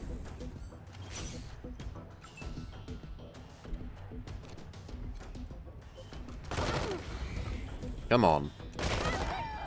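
Pistol fire in the Wasteland 3 video game, with bursts of sharp shots and crashes amid game music and sound effects, while someone talks briefly over the action.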